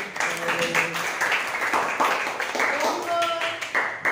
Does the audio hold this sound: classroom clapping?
yes